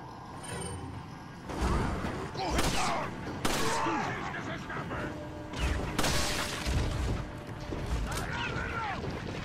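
Pistol gunfire in the video game Resident Evil 4, sharp shots ringing out in a few separated bursts amid crashing, smashing effects and steady background game noise.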